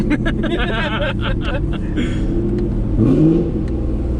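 A C7 Corvette Grand Sport engine rises in pitch as the car accelerates on a night drive, a loud close cabin drone with a brief rev swell near the end, while people talk over it.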